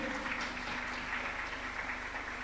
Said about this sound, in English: All right, a lot of applause once again.